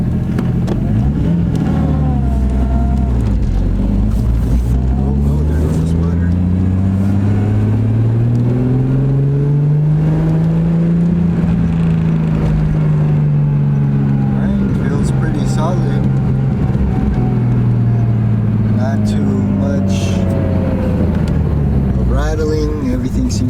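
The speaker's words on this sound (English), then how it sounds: "we're still gonna just try to hear that turbo. That spool up is crazy" A cold car engine that runs rich is revved up and back down, its pitch rising to a peak and then falling over a steady, loud idle, with a turbo spooling as the revs climb.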